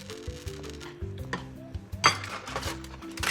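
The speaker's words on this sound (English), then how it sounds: "We're gonna flip them one more time." Fish pieces in a pan with reduced sauce are turned over, with a few clear metallic clinks and scrapes of utensil on cookware over a steady low hum, close and moderately quiet.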